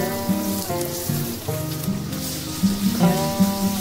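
Chicken sautéing in a hot pan for an arbi chicken curry: a steady, close sizzle running throughout beneath a melodic background music track.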